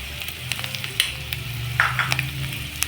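Paneer cubes fry in hot oil in a pan, a steady close sizzle with occasional crackles and the scrape of stirring, no talk.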